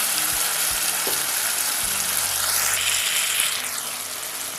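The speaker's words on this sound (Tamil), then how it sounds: "தக்காளி ஓரளவுக்கு வதங்கிடுச்சு" Tomatoes sautéing in a pan for a small-onion kara kuzhambu, giving a steady broad sizzle with a few soft clicks and low thumps, close and continuous, with no talking.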